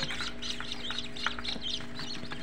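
Newly hatched chicks in a homemade carton incubator peep and cheep continuously, a dozen small birds calling in quick overlapping chirps at close range over a faint steady hum.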